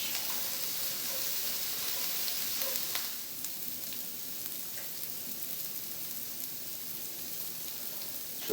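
Onions and peppers sauté in a pan for a low-carb keto shepherd's pie, giving a steady broad sizzle that runs throughout, slightly louder in the first few seconds, with no talking.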